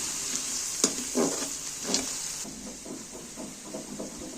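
Onions and pakoras fry in a pan with a steady, hissing sizzle. Occasional louder crackles and pops break through the sizzle, and soft stirring scrapes come and go. No one speaks.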